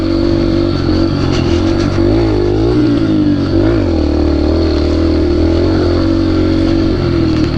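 A Yamaha TTR dirt bike engine revs hard and loud throughout, close up with a buzzy, wavering pitch as the throttle swells and eases while the bike power slides through turns.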